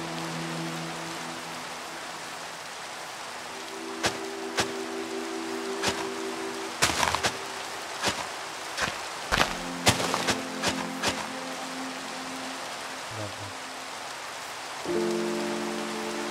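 Rain falls steadily in Minecraft, a soft continuous hiss with scattered sharper drop taps and a few louder clicks partway through, with sustained in-game tones underneath.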